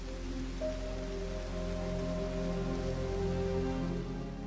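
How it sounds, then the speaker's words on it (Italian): Steady rain falls in a continuous, even hiss, with low sustained tones mixed underneath and no voices. "Le piogge spazzavano via lo strato di terra fertile."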